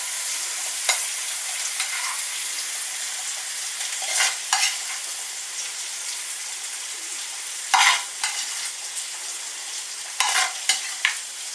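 Mushrooms fry in a pan with a steady, bright sizzle, broken by a few louder scraping stirs at close range, and no talking.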